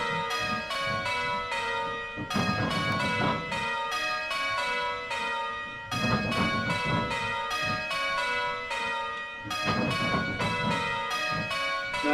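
Church bells rung on a bell-ringing simulator sound in a steady repeating sequence of clear, resonant tolls, loud and close, overlapping into a continuous pealing pattern with no talk.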